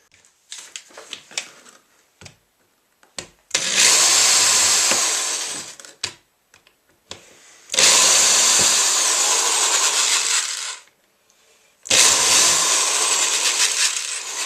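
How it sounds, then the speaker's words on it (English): A power drill cuts countersinks into a plastic plate on a Stratocaster-style guitar in three loud, close, sustained bursts of whining drilling, separated by brief clicks and handling knocks. "we'll put our countersinks on and we're ready to install"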